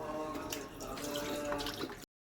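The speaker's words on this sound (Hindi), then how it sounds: "तो अब ये 6 लीटर दूध जो है मैं डालूँगी पतीले में।" Six litres of milk pour steadily into a cooking pot, a close continuous liquid splash and gurgle lasting about two seconds before stopping abruptly.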